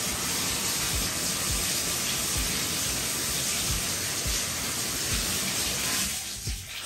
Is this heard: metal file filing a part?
no